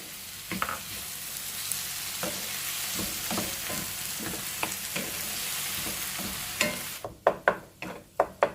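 Onions sizzle and are stirred in a hot pan, with a steady frying hiss broken by repeated scraping strokes that grow sharper and louder near the end; no one speaks.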